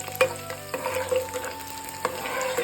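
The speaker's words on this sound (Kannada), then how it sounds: "ಲೋ ಫ್ಲೇಮ್ನಲ್ಲಿ ಸ್ವಲ್ಪ ಹೊತ್ತು ಫ್ರೈ ಮಾಡಬೇಕು." Chopped onion frying on low flame for pepper chicken, a steady soft sizzle with occasional clinks and scrapes from stirring.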